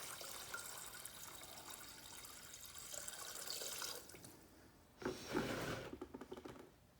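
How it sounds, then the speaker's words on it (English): Water draining from a fuel container through a vent hose, a steady trickling and splashing wash that eases off around the fourth second, then returns in a louder gurgling burst near the end. "I'm just gonna let the water out"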